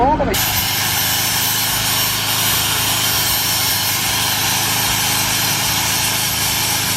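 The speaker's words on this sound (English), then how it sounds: "he's got 80 grit sandpaper, smoothing out any imperfections from the grinder" Stainless steel welds on a safety rail being smoothed with 80 grit sandpaper by a power sander, a loud continuous abrasive whir and hiss that starts abruptly and holds steady, with talk over it.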